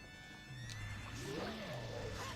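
Horse neighing in the Zelda: Ocarina of Time video game, a single drawn-out whinny with rising and falling pitch over steady game background music.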